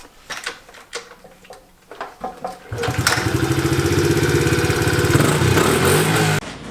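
A dirt bike is kicked over several times with sharp chugs before it fires and runs at a fast, rattling idle, loud and close, then cuts off near the end.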